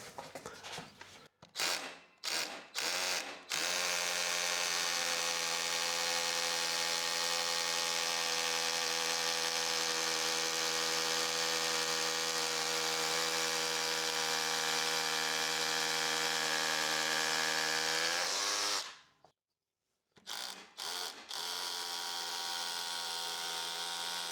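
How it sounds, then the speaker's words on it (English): A Parkside SDS hammer drill runs at a steady high-pitched whine for a long stretch, with short bursts at the start and a brief stop near the end. "Parkside SDS drill. This thing's a beast."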